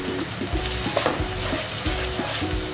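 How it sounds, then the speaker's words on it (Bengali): Onion paste sautéing in a hot pan for a Bengali doi bhetki fish curry, a steady close sizzle broken by repeated scraping stirs of the spatula, with no voices. "এবার এর মধ্যে আমি প্রথমে যে পেঁয়াজের পেস্ট করে রেখেছিলাম সেটা আমি দিয়ে দেবো। দিয়ে ভালো করে এটা কষাতে হবে।"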